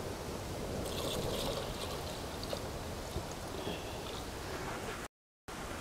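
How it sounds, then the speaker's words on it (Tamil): Rice-washing water pours into a cooking pot for onion sambar, a soft continuous trickle and splash at low level throughout, with no talking. "இந்த கழனி தண்ணியை ஊற்றி"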